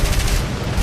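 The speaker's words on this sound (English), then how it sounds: "the gunner's firing away" An aircraft gunner's machine gun fires during a bombing raid in the War Thunder video game, a loud, dense burst of rapid shots with a heavy low rumble, continuous for just under a second.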